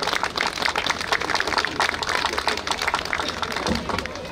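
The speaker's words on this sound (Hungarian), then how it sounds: "úgyhogy tapsot megérdemelnek" A crowd at a town square gathering in Kistelek applauds the town's technical staff, dense continuous clapping throughout with faint voices beneath.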